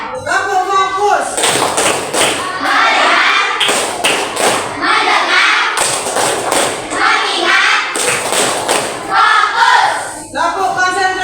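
A class of children performs a call-and-response clapping chant called tepuk fokus, with bursts of loud unison claps and thumps in repeating rhythmic patterns between their chanted voices.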